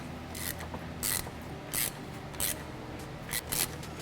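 A ratchet wrench breaking loose a turbo flange stud nut on a Ford EcoBoost F150 truck, with several short, sharp clicking bursts at an uneven pace, close and clear, no talking.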